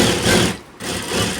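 A sewing machine stitching glass-bead lace onto a kurta sleeve runs in a steady fast whir, pausing briefly midway before resuming at the same close, even pace.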